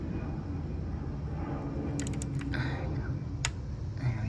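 A torque wrench tightens an ignition coil bolt on a 2008-2014 Cadillac CTS 3.6L V6, giving a few quiet ratcheting ticks and one sharp click over faint background hiss.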